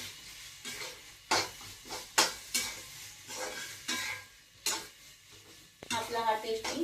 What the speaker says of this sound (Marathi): आपण आपला राजमा व्यवस्थित परतून घेऊया